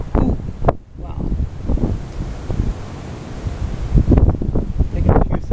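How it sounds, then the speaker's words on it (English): Strong gusting wind beside a river in flood, roaring and buffeting the microphone loudly and continuously, with rustling and rushing water texture mixed in. "it's also very, very windy right now"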